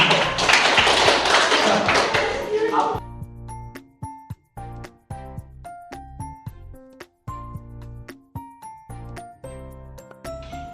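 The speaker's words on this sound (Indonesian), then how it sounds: "tepuk tangan untuk kita semua" A class of students applauds together, a dense burst of clapping lasting about three seconds before giving way to separate taps and light clinks.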